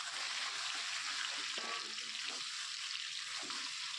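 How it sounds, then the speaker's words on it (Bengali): Kohlrabi and potato pieces fry in hot oil, giving a steady, fairly quiet sizzle throughout with a few faint scrapes underneath. "প্রথমে ওলকপি আলুটাকে আমি ভালোভাবে ভেজে নেব।"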